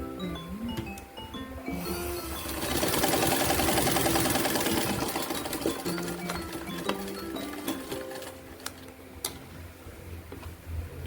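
A sewing machine stitches a shoulder seam twice, its rapid mechanical ticking rising into a louder steady run, pausing, and returning with quieter intermittent clicks and handling noises close by.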